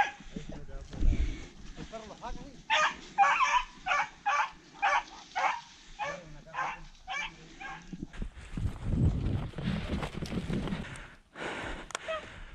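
Beagle and greyhound dogs on a rabbit hunt in Lolol, Chile, giving a rapid series of sharp yips and barks outdoors, mixed with people talking and rustling movement.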